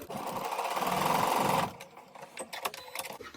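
A sewing machine runs a quick, continuous stitching burst while piecing quilt block fabric with the center seams aligned, then stops abruptly, leaving light handling clicks and rustles.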